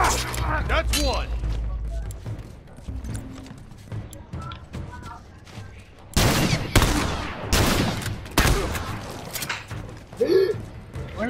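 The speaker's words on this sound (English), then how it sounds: "Where am I getting shot from?" Gunfire in a video game rings out in sharp bursts, loudest in a cluster of loud cracks midway, mixed with clattering hoof-like game sounds and a voice talking over the action.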